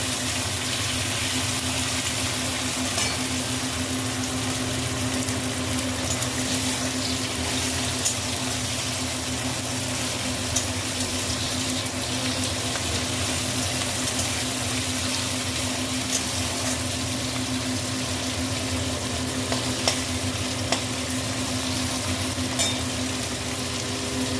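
Chopped tomatoes softening in hot oil in a pan, a continuous loud sizzle and hiss with occasional faint clicks of stirring, steady throughout with no talking.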